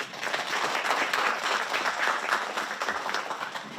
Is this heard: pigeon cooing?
no